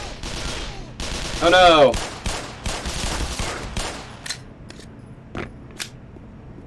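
Gunshots in the video game Black Mesa: a rapid run of loud, crackling shots peaking early with a brief cry-like tone, then scattered fainter bangs as the action thins out, with a voice speaking briefly.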